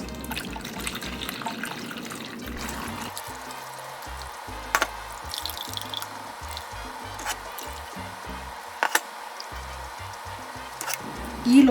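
A blended peanut and milk drink is strained, giving a soft continuous pour and trickle of liquid with occasional clinks and drips, close by and fairly quiet.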